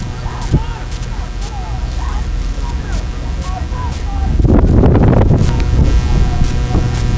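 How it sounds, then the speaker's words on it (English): A wind gust sweeps across a collegiate women's rowing race course, a broad whooshing roar swelling in the second half and lingering, beneath a steady low rumble of the open-water setting. "Gust of wind coming through"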